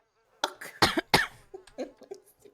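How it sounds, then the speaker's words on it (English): A person coughs close to the microphone, a burst of three harsh coughs followed by softer throaty coughs and clearing sounds, alone without talk. "I'm coughing."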